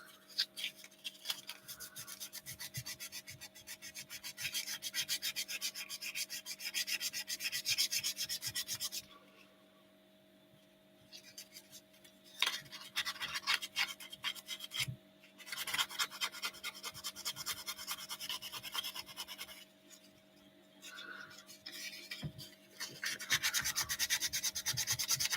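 Hand sanding a cutout, with repeated scratchy back-and-forth rubbing strokes going on for long stretches and broken by a few short pauses, close and fairly quiet.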